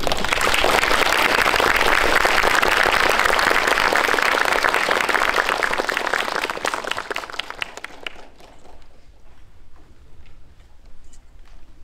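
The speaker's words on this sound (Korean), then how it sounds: "구로사와 기호실 감독님을 큰 박수로 맞이해주시기 바랍니다." A cinema audience at a special screening talk greets the film director Kiyoshi Kurosawa with loud, dense applause that holds steady, then thins out and fades into scattered claps.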